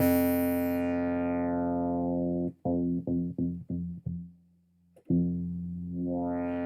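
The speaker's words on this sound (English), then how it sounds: "When you start to close the cutoff, it will take away, it will subtract the high frequencies." A sustained synthesizer tone from Logic's ES1 grows darker and duller as its filter cutoff closes, stutters through several short rhythmic cuts, then brightens again.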